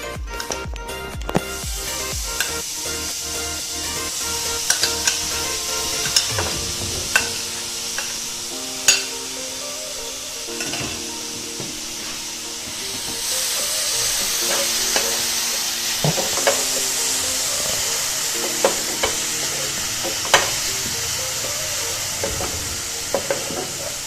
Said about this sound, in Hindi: अब इसमें हम प्याज का जो है ना पेस्ट डालते हैं।